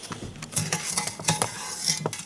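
A spoon stirs in a pot, with quick irregular clinks and scrapes of metal against the sides, close up and fairly quiet.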